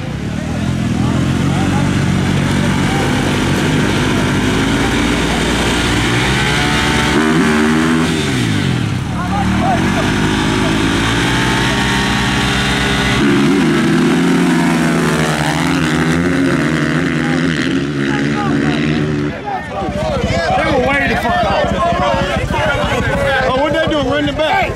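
A 2000 Honda CR250R dirt bike engine, running lean, revs and drones loudly throughout, its pitch rising and falling with throttle changes, with voices talking over it.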